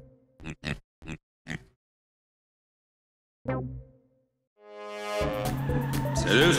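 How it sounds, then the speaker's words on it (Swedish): A cartoon pig from Pocoyo lets out a few short, separate oinks, followed by a pause, a brief squeal-like burst and then a rising rush of louder mixed effects with no talk. "Det är gris! En gris!"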